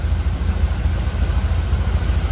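A gas-powered barn fan driven by a souped-up Mazda RX7 rotary engine with a big blower belt runs loud and close, a steady low rumbling drone with a rapid pulsing throb.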